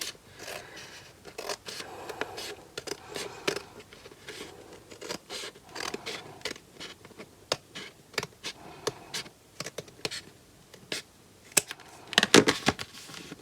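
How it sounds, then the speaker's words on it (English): Large scissors trimming a paper edge during a craft project: a long run of quick, sharp snipping clicks, fairly close and irregular, with a denser flurry of cuts near the end. "I think I'm going to grab my larger scissors, and I'm just going to even up that edge"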